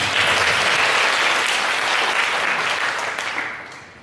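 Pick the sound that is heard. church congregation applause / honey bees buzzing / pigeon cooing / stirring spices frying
church congregation applause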